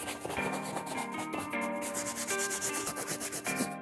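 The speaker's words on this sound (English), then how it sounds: "Why are you brushing all that dirt off on my floor?" A stiff brush scrubs dirt off a Jordan Aqua 8 sneaker in quick, repeated close-up strokes, a rhythmic scratchy bristle sound over a low steady hum, with no one speaking.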